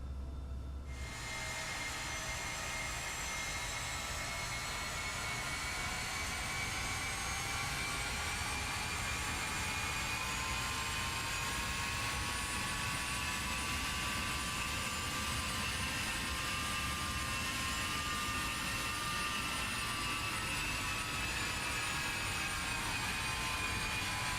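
A Carenado Falcon 50EX business jet taxiing in the Prepar3D flight simulator gives a steady, loud engine whine with layered high tones that slowly drift in pitch over a constant rumble, with no talking.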